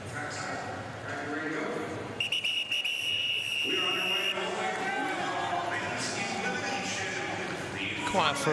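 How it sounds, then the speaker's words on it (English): A referee's whistle is blown hard at a track cycling race, piercing and sustained over a busy arena crowd while a commentator talks throughout. "Quite a ferocious blow on the whistle."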